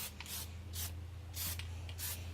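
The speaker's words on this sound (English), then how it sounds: "Spray it till it comes out clear." Plasti Dip spray can sprayed in four short, close hissing bursts with brief pauses between them, over a low steady hum.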